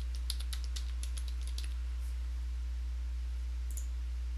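Password being typed on a computer keyboard while setting up a Windows system, a quick burst of light key clicks in the first second and a half, then a near-silent pause with a couple of faint final taps.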